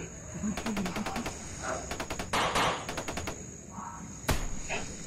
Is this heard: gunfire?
yes